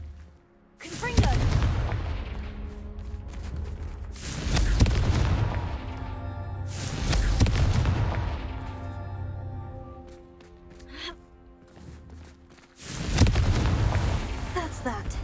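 Confringo fire spell explosions in the Hogwarts Legacy video game: four heavy booming blasts a few seconds apart, each with a deep rumble and crackling tail, loud and close, with no talk between them.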